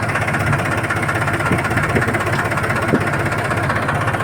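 A dumper truck's diesel engine drones steadily and loud at close range as it climbs a washed-out riverside road, a continuous low rumble with a faint knocking texture and no pauses.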